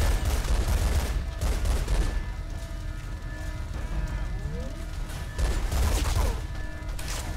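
Gunfire in the game Spy Hunter: Nowhere to Run, dense rapid bursts of shots in repeated volleys over a busy mechanical backdrop, loud and continuous.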